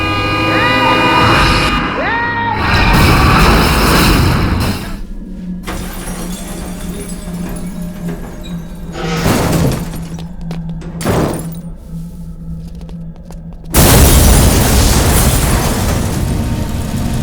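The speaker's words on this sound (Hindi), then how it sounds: "अपन के ट्रक के एक ही टक्कर में एसीपी राम और फाइल दोनों जल के राख हो गए" Truck collision with an explosion and burning wreckage in a Hindi film comedy scene, loud roaring booms and crashes at the start, a long stretch of crackling and rumbling, then another loud burst near the end.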